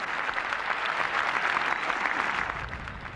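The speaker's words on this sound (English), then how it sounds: "And those cheers reach out to the 14th" Home crowd at the 18th green of the 1985 Open Championship golf cheering and applauding, a dense continuous roar of clapping heard from some distance, steady throughout.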